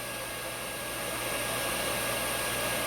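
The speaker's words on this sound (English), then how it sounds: "this hair dryer is designed, it's putting out 1850 watts, but somehow this EcoFlow Pro is able to handle that sucker." An 1850-watt hair dryer set to hot runs steadily off an EcoFlow Pro portable power station, a close, continuous broadband blowing roar with a low motor hum underneath, holding level throughout with no talking.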